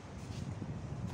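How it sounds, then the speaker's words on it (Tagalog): Autumn wind in Kuwait buffets the microphone in a low steady rumble, brief and close, with no voices. "Ang hangin guys."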